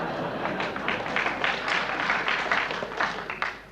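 An audience applauding, a dense patter of many hands clapping at moderate volume that carries evenly through the few seconds.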